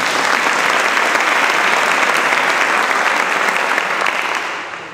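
Loud, sustained audience applause at a Leadership Winston-Salem forum welcoming the city's mayor, a dense steady clapping from a crowd that holds for several seconds and then begins to fade.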